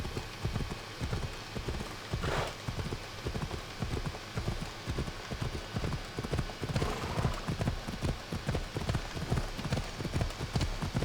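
Horse hooves gallop in Assassin's Creed Odyssey, a fast and steady clip-clop of repeated thuds heard close and loud for the whole stretch.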